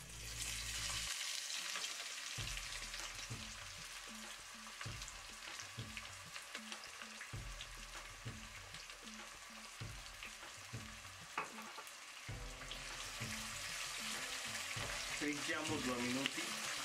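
Onion sizzling and frying in hot oil in a pan after peanuts, with steady crackling sizzle and occasional stirring clinks throughout, close and continuous, while preparing Indian-style polenta.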